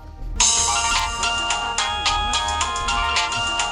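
A mobile phone ringtone plays loud and close, a repeating electronic melody that starts abruptly and keeps ringing without pause, with no voices over it.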